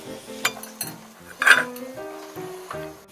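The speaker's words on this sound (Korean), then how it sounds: "이거는 건져내고 제가 밥을 한번 퍼볼게요." Cooked bamboo-leaf rice made with new-crop rice is scooped from a pot, giving soft scraping and a few clinks of a utensil against the pot over a short stretch, fairly close.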